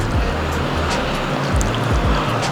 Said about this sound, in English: Now you pour the Penang Laksa broth over.